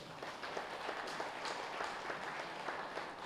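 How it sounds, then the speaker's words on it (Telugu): An audience in a meditation hall claps together, giving a faint, steady patter of applause heard from a distance that keeps an even level throughout. "ఒకసారి గట్టిగా క్లాప్స్ కొడదాం."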